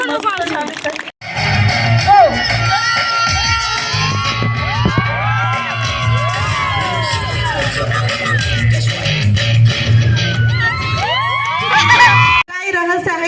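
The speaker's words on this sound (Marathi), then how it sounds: "साठी एकदा जोरदार टाळ्या" Lively crowd noise at a women's game show event, with loud cheering, whoops and shouting voices sustained across the scene, broken by a couple of brief drops; a presenter's voice talks over the din.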